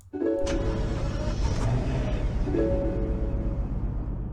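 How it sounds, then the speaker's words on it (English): A video game Rolls-Royce Dawn convertible cranks and catches, settling into a steady, rumbling idle with a brief rise in revs partway through. "Here's what it sounds like starting up."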